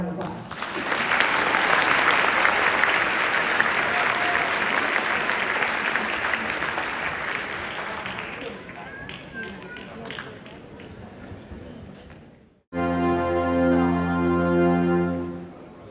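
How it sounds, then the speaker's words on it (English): An audience at a high school band winter concert claps loudly and steadily for several seconds, the ovation thinning and tapering out before a sustained tonal sound starts abruptly near the end. "Can you give them one more round of applause?"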